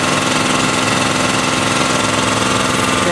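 A GKI 3 HP two-cylinder air compressor runs at about 1000 RPM, a loud, close, steady pulsing mechanical drone with an even rhythmic chug and no talk.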